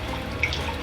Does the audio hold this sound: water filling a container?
yes